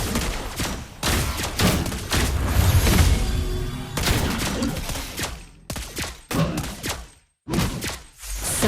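Gunfire in Mobile Legends, with bursts of rapid shots and booming impacts packed into dense, loud volleys that break off into short gaps near the end.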